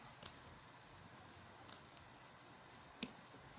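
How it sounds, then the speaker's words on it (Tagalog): Scissors snipping through foil indoors: three or four brief, crisp cuts spaced irregularly, close but quiet, over a low room hush. "Kita niyo itong mga foil. Ikakat ko siya para cut. Ito, may gunting ako."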